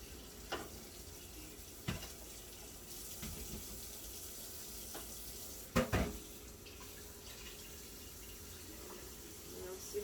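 Water runs steadily from a kitchen tap as boiled eggs are rinsed under it, a soft continuous splash with a few louder knocks and clatters.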